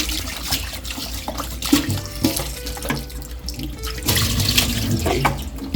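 Tap water runs into a sink while pig small intestines are washed, with splashing and gurgling that rise and fall as the pieces are handled up close.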